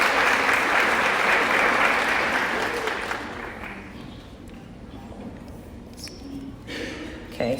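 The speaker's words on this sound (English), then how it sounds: "Give yourselves a round of applause for just looking stunning today." An audience applauds itself, loud, dense clapping that holds steady for a few seconds, then thins and fades into scattered claps and room murmur.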